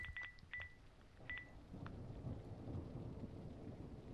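A horror video game, Valley of Shadows, plays several short touch-tone telephone dialing beeps in quick succession. They are followed by a low, rumbling storm-like ambience with rain and thunder that continues to the end.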